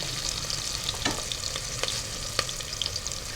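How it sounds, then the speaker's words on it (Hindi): Onions fry in hot oil for a desi mutton curry with potato and cauliflower, giving a steady, close sizzle broken by a few sharp scrapes of stirring. "चलिए ऑयल गर्म हो गया, चलिए प्याज को हल्का सा फ्राई करके ना और साथ ही हम इसमें गोश्त डाल देंगे"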